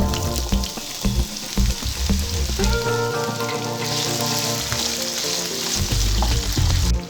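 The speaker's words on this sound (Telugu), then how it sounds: "తాలింపు ఫ్రై అయిన తర్వాత ఆలుగడ్డ ముక్కలు వేసుకోవాలి." Potato pieces hit hot oil already tempered with seeds and curry leaves, setting off a loud, close, bubbling sizzle that settles into a steady fry.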